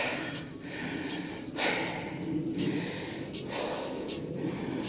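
Heavy, rhythmic panting from someone hiking uphill on a mountain route with a chest infection, breaths close to the mic over steady outdoor wind noise.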